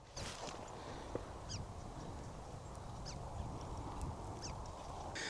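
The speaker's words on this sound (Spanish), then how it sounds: "se escuchan mucho los pajaritos" Birds call outdoors, faint and somewhat distant: scattered short chirps and calls rise over a steady, quiet background hiss, with no voices.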